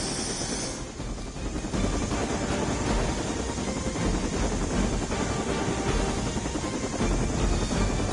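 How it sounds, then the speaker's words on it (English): Helicopter in the video game Marvel's Midnight Suns, a steady broadband rotor-and-engine roar mixed with wind-like rushing that holds loud and continuous throughout, with no voices over it. "The helicopter is back in action."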